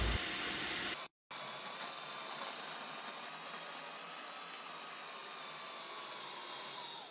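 A kitchen blender grinds mixed nuts for a children's lunchbox recipe with a steady, hissing whir that briefly cuts out and then resumes, running on evenly.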